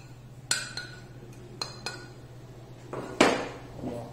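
A utensil mixes pork roast seasoning ingredients with margarine in a bowl, producing a few sharp clinks and knocks against the dish, scattered and close, with quiet pauses between.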